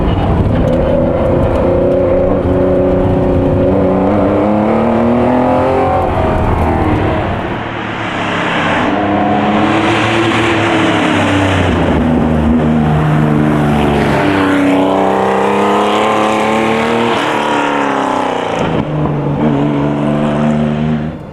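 A Porsche Carrera RSR race car engine howls and revs loudly up and down through the gears, passing close with a harsh, guttural roar on the overrun.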